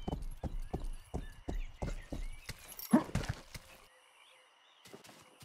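Horse hooves clip-clop in a quick, steady galloping rhythm within a video game, the regular beats dominating the first few seconds before a brief louder burst and a fade into quieter game ambience.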